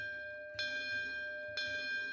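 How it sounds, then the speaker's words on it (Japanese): A bell hung on a prison-island watchtower in the game Kamaitachi no Yoru 2 is rung twice, each a sharp, high metallic clang with a long ringing tail, the two strikes about a second apart. "鐘の音が聞こえる。 カンカンと甲高いその音がどこか物悲しい"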